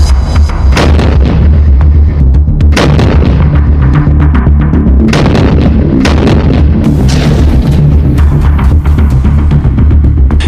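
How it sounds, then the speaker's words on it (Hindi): Heavy explosions boom repeatedly in Herat and Lashkar Gah, Afghanistan, during the war, several loud blasts with rumbling between them, dense and intense throughout. "ये हेरात में पहला धमाका है।"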